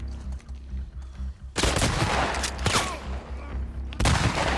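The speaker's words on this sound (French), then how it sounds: "un fusil à pompe c'est pour le corps à corps" Shotgun blasts in a video game ring out in a loud, dense burst of firing after a quiet lead-in, with a second sharp blast near the end.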